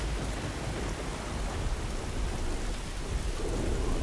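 A thunderstorm in the video game The Last of Us: dense, steady heavy rain with low rumbling thunder underneath, a loud continuous wash that fills the whole stretch without speech.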